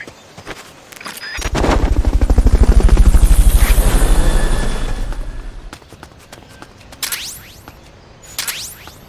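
A helicopter's rotor chops loudly and rhythmically in Metal Gear Solid Peace Walker, swelling to a roar and then fading away, with a few sharp bursts afterward.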